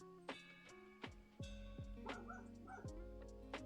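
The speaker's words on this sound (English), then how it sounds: "Can you hear the downstairs dog barking now?" A dog in the apartment downstairs gives a series of yips and barks, some drawn out into whimpering howls, muffled and moderately distant in a quiet room.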